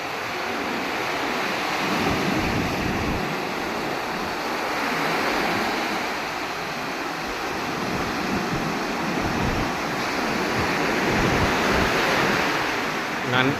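Sea waves break and wash onto a beach in a steady roar of surf, with surges swelling and easing and wind buffeting the microphone throughout.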